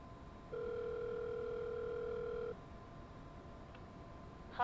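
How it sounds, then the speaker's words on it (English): A telephone ringback tone sounds in the Challenger 650 flight simulator game, one steady two-second purr against a faint cockpit hum, followed by quiet. "Let's make a phone call and get the passengers over here."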